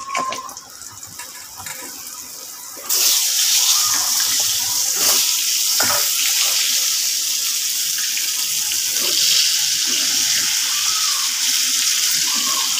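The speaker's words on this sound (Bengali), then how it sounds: "এই পটলগুলোকে সুন্দর করে লাল লাল করে ভেজে নেব" Pointed gourd (potol) pieces, salted and coated with turmeric, frying in hot oil in a home kitchen: a loud, steady broadband sizzle that flares up suddenly a few seconds in and stays strong.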